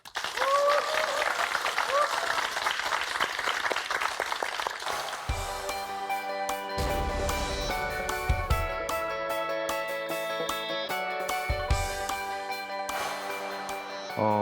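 An audience bursts into loud, dense clapping to open a lecture on units of measurement, lasting about five seconds before giving way to tonal music that carries on to the end.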